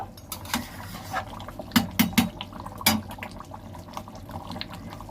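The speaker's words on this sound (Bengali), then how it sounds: "মাংসটা কষিয়ে জল ঢেলে দিয়েছি, এই যে এবার কুকারে ঢেলে নেব।" Cooked meat and water poured from a pan into a pressure cooker, a close watery slosh with several sharp metallic clanks of the pot and ladle, moderately loud with no talking.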